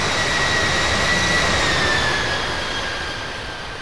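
Steady broadband roar of an airliner's jet engines taxiing at Cairo International Airport, with a faint high whine running through it; the roar holds loud and continuous, then eases slightly toward the end, with no voices.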